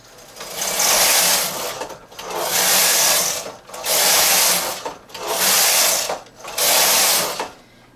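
A domestic knitting machine set to tuck stitch is pushed across the needle bed in five long, loud rasping passes, each a sweeping whoosh with brief pauses between rows, close and alone.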